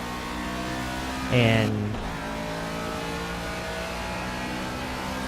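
Race car engine in the racing video game Project Cars, on a rain-soaked track: one short, sharp rev that rises and cuts off, over a steady engine drone. Someone speaks briefly over it.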